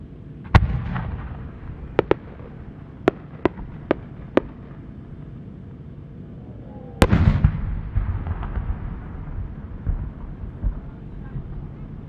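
Firework shells from a Japanese pyrotechnics maker's new-work entry at the Omagari fireworks competition in Akita: a series of sharp, widely spaced booms and cracks, then a heavier burst followed by crackling rumble, with a faint voice in the background.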